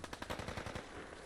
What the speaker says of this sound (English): There's ambient gunfire. Better get used to that.